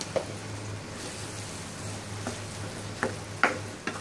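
Mango thokku pickle stirred with salt and masala in a pan, giving faint, sparse scraping taps over a steady low hum, with a couple of sharper clicks near the end.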